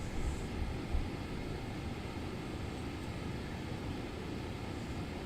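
An airliner idles at an airport terminal in Microsoft Flight Simulator, a steady broadband engine rumble and whine that holds evenly throughout with no voices.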